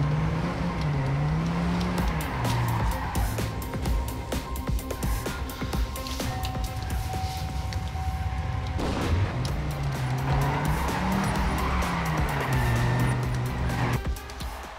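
A car drifts and skids in the racing video game Trackmania 2 Canyon, a continuous engine whine rising and falling with sliding tire noise and bursts of impact-like crackle, loud and close with no talking.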